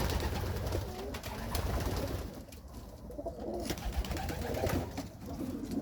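Racing pigeons coo steadily in a loft, a soft continuous murmur of many birds with occasional wing and scuffle noises.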